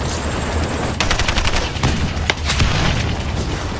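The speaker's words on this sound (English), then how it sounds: "The SEALs are immediately pinned down by a barrage of machine gun fire." Sustained machine gun bursts in a mountaintop ambush on a Chinook helicopter and Navy SEALs, rapid rattling volleys with sharper single shots and booms, loud and dense throughout.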